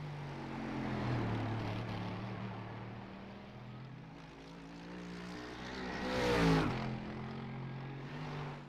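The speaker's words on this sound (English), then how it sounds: "I really do hate the sound of the differential on this car." A BMW M4 GT3 race car in a racing video game gives off a steady, tonal differential whine over engine drone, its pitch rising and falling as the car speeds up and slows.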